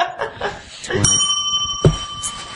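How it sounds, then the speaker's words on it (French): A bell struck twice during a podcast recording, each a bright ringing tone that lingers, heard under people chatting and laughing nearby. "j'ai cogné 2 fois, moi, tantôt sur la cloche"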